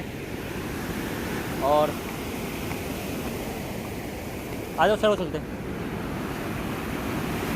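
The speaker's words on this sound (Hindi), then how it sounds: "ये गेट खुला भी नहीं है, लेकिन पानी यहाँ छोड़ा हुआ है। लेकिन इससे पानी से ना छीटे ही टाइप के ऊपर आ रहे हैं, फव्वारे टाइप के।" Water released near a river gate sprays up like a fountain, making a steady, broad rushing roar that fills the whole scene. Someone speaks briefly twice over the constant noise.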